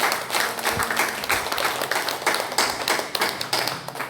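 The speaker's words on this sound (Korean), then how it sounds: "우리 하나님께 축복의 박수." A church congregation claps together in a warm, sustained round of applause during a worship service, the dense clapping holding steady for about four seconds.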